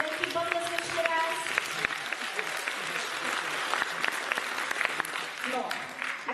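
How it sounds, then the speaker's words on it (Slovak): An audience claps at a Mother's Day school performance, a dense sustained round of applause that holds throughout, with a voice briefly audible over the clapping. "Môžeš niekto ísť, veľký potlesk ešte raz."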